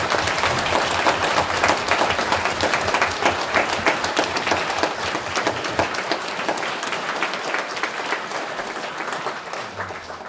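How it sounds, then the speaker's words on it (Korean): Loud, sustained applause from a large church congregation welcoming a pastor fills the whole stretch, dense and continuous, tapering slightly toward the end. "박수로 환영해 주시기 바랍니다."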